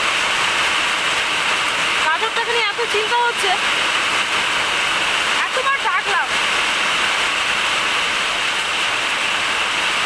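Heavy rain pours down outside a house in a steady, loud, unbroken hiss, while a person speaks briefly over the downpour.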